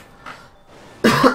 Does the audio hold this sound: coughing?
yes